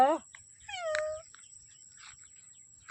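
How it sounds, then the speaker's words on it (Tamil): A cat gives two clear, rising-and-falling meows close by, the first at the very start and the second a moment later, followed by faint rustling and quiet background. "பூனை தான் கத்துது"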